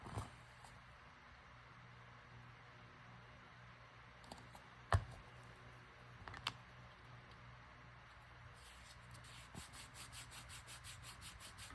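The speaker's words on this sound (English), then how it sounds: "I just give it a little rub down so that that glue gets spread around." A hand rubs down a small craft card to spread tacky glue, making a faint, soft scratchy rubbing with a few light clicks and taps. The sounds are quiet and close, with no talking.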